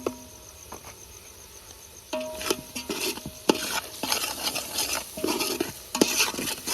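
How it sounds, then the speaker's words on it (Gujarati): Spoon scraping and clattering against a frying pan while pav bhaji masala is stirred, with quick irregular strokes and a soft sizzle underneath, close and fairly loud. "તો મિત્રો પાઉભાજીનો મસાલો એડ થઈ રહ્યો છે બરાબર મિક્સ કરી નાખશું"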